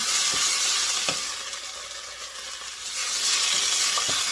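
Tomato sauce for Mexican rice cooking in a pan on a stovetop at medium heat, giving a steady bright sizzle with a few soft stirring scrapes and clicks, moderately close and alone.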